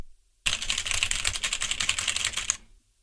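Rapid, close typing on a computer keyboard, a dense clatter of key strikes lasting about two seconds before cutting off to silence.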